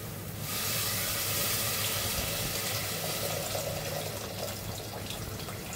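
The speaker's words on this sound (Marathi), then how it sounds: "त्याचं हे पाणी आपण त्याच्यात टाकूया" Water pours steadily in a continuous close splashing stream onto crushed crab claws, running for several seconds without a break and with no one speaking.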